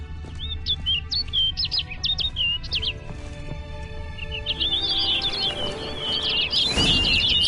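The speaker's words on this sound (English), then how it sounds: "Looks like the bird's leading me somewhere." Bright chirping bird calls in the fantasy game The Witcher 3, quick repeated tweets in short clusters over a soft ambient bed, pausing then returning as a faster twittering run before a brief swell of noise.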